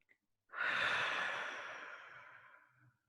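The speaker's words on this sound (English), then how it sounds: "Two more big breaths." A single big, deep exhale during a yoga session, a long airy breath that starts strongly and slowly fades over about two seconds, close to the microphone with no talking.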